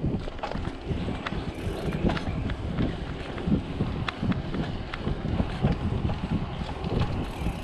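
Wind buffets the rider and the GoPro microphone on a mountain bike trail at Chickasaw Trace Park, a steady, loud, rumbling blast of noise with gusty fluctuations and occasional rattles throughout.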